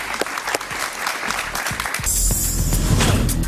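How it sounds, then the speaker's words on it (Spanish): Loud studio audience applause breaks out for senator María Fernanda Cabal on a television talk show, starting with scattered claps and swelling into a dense, sustained ovation. "Un aplauso fuerte para ella, por favor."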